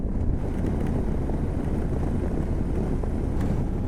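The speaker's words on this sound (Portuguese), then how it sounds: "E dá-lhe vento, ó." Strong wind roars continuously against the microphone of a touring motorcycle on an open highway in Argentina, a steady, loud broadband rush that fills the whole clip with no voices.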